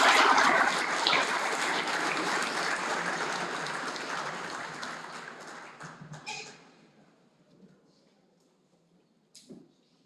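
Audience applause at an opening-day ceremony for a maritime security course, a dense, loud round of clapping that gradually fades over several seconds, with a few scattered claps and a brief knock near the end.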